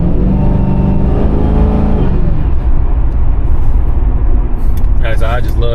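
A loud supercharged V8 engine in a 2004 Mercury Marauder revs with a high supercharger whine that drops away, leaving a deep rumbling exhaust; someone starts talking at the end.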